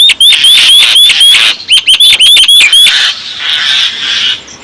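Common mynas squabble loudly over a chick, a rapid run of harsh, repeated chattering calls close by that thins into a softer, noisier scolding toward the end.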